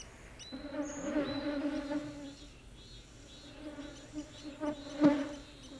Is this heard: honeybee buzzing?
yes